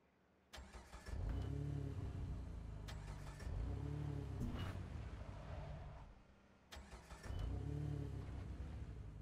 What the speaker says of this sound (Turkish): İşte tepeye giden bir araba.